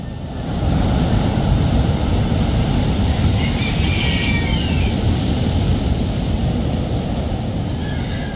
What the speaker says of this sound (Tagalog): Oh, laki ng mga alon.